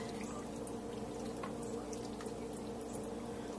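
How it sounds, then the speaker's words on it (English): Bourbon marinade poured over chicken in a kitchen, a quiet steady liquid trickle and splash running continuously and faintly over a low background hum. "And then pour it over the meat"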